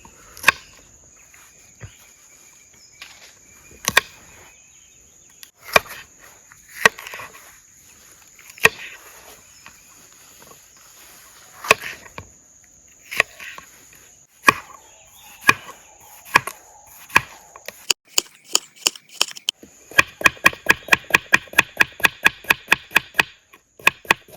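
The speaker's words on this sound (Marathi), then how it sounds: "आपल्याला क्यूब कटिंग करायची आहे क्यूब पनीरमध्ये लावायला अशी मोठी मोठी कटिंग करून ठेवू" A knife cuts paneer into large cubes at a forest campsite, with sparse sharp chops on a board that speed into a quick run of strikes, while insects chirp steadily in the background.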